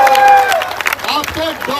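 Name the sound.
crowd applause at a protest gathering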